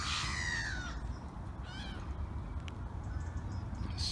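Seagulls cry out overhead, a couple of descending wailing calls and a shorter squawk, over a constant low rumble of wind or surf outdoors at a lakeside carp fishery.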